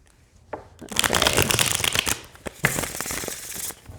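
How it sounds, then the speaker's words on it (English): A tarot card deck is riffle shuffled close up, a quiet start giving way to dense bursts of flapping, riffling card noise with a brief pause and a second shuffle, no voices. "I'll show you how they shuffle"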